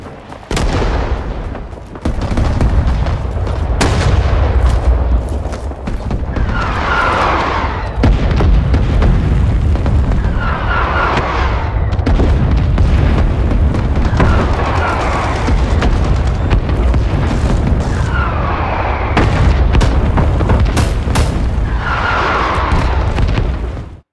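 In Rising Storm 2: Vietnam, an incoming fire-support strike brings artillery blasts booming one after another, heavy and continuous. Repeated explosions thunder over a dense roar of gunfire.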